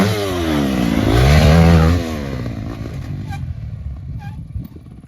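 A motocross motorcycle on an amateur supercross jump track revs hard, engine pitch sweeping up and falling back, then easing to a lower, rougher idle-like drone with faint clatter, loud and close.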